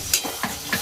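Turmeric and sugar cook with a little water in a pan, a brief soft sizzle marked by three quick scraping strokes of stirring, no voices.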